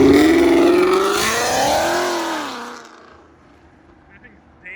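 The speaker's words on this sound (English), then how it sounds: "That thing's damn loud. Oh, the GT500 pulling in." A boosted Ford GT500 with a 5.0 V8 revs hard and loud up close at a car meet, the engine note sweeping up and falling away as it passes before fading into quieter background.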